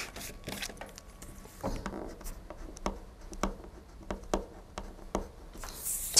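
A pen writing on a small sheet of colored paper, close and quiet, with quick scratchy strokes and taps in an irregular rhythm across several seconds.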